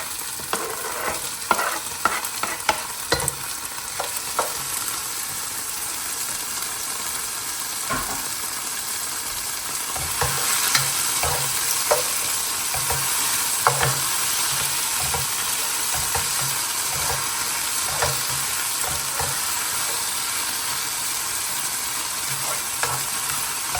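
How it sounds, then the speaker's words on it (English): Tomatoes sizzle in a pan for a South Indian chicken Chettinad gravy, a continuous close frying hiss with scattered sharp clicks and taps from stirring. "So now I'm going to add the tomatoes."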